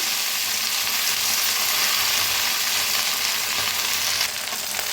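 Fenugreek leaves frying with roasted garlic in a kadai, a loud continuous close sizzle with soft stirring, steady throughout and without speech.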